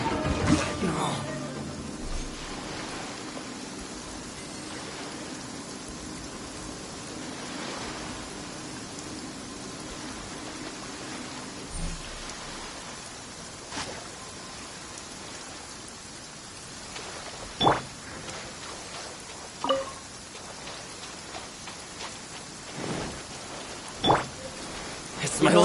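Rain falling in the Inazuma region of Genshin Impact: a steady, dense patter of rain that runs throughout, with occasional sharper clicks and thumps of game action breaking through.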